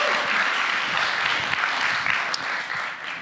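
Audience at a panel discussion event on Eastern European protests gives warm applause, a dense, steady round of clapping with a few sharper claps standing out, tapering slightly at the end.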